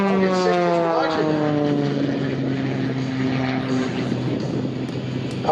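An aerobatic Extra propeller plane flies aggressively at the Dayton airshow, its loud engine drone sliding steadily downward in pitch as it passes, with a crowd murmuring underneath.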